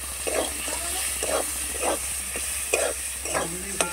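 A prawn masala with turmeric, cumin and coriander powder and salt frying in a pan, a steady hiss broken by rhythmic scraping stirs about every half second, close by.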